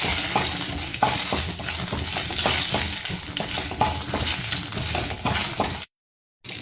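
Curry leaves and cashew nuts fry in hot oil in a pan for ven pongal, giving a loud, continuous close sizzle with stirring scrapes, then a sudden brief silence near the end.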